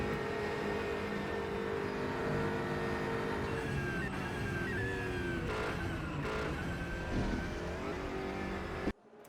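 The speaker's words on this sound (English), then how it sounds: "Man, that BMW transmission whine." BMW race car in a GT endurance sim race at Bathurst, a steady loud engine drone with a high, rising transmission whine layered over it, continuous until an abrupt cut near the end.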